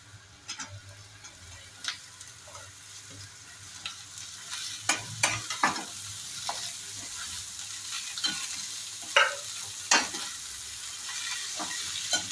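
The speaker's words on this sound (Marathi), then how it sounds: "कांदा भाजलेला आहे। आता आपण हे कंटुरे टाकून घेणार आहे।" Kantule greens frying in a pan with onion and a pinch of asafoetida make a soft continuous sizzle, broken by sharp clicks and scrapes of stirring at irregular moments; no one speaks.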